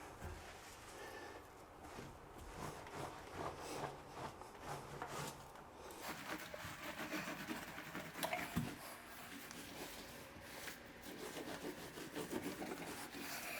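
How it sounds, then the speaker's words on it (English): Microfiber cloth wiping epoxy grout off tile, a faint continuous scrubbing rub with soft irregular strokes, close by and alone without speech. "I think I'm just gonna wipe it off with the microfiber"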